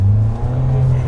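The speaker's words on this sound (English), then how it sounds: "The classic diesel grunt" A Mahindra XUV700 diesel engine pulls hard under full throttle in Zoom mode, giving a loud, steady low drone for about a second with no talk over it.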